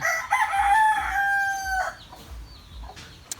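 A rooster crows loudly in one long drawn-out call, followed by softer clucking and chicken noises close by.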